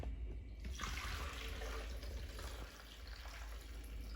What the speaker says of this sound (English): So I like adding the water first.